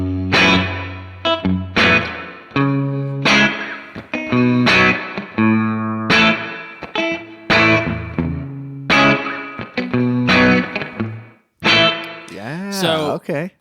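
Guitar played through a Keeley Caverns V2 delay/reverb pedal set to its spring reverb mode: loud chords and picked notes ringing with a wet, splashy tail, ending in wobbling pitch-bent notes, with no talking.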